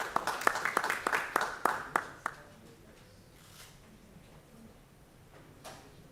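An audience at an African machine learning conference at Wits University in Johannesburg gives a speaker a brief round of applause, sharp claps that fade out after about two seconds, followed by faint room noise and scattered movement.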